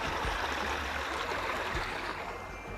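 Steady rushing of a running stream of drinking water beside the E4 trail near Litohoro, Greece, a continuous close wash of flowing water with no voices.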